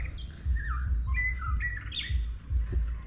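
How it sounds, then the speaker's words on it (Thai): Many birds chirp and tweet at once around an ancient temple ruin in Sa Kaeo, Thailand, with varied calls overlapping against a low rumbling background. "นกเยอะมาก คือนกเยอะมาก ๆ ครับ ธรรมชาติ สุดๆเลยเนี่ย ได้ยิน เสียงไหม"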